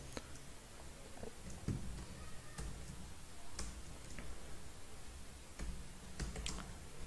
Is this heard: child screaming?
no